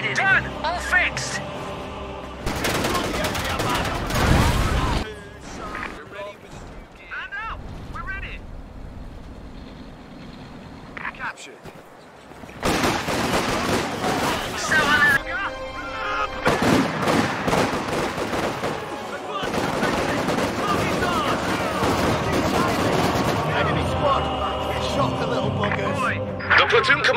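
Infantry gunfire in a World War II-style strategy game, with bursts of rifle and machine-gun shots crackling in loud clusters, separated by quieter stretches, while voices talk over much of the action.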